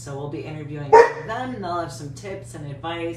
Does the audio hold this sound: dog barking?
yes